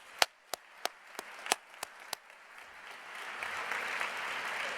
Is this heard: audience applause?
yes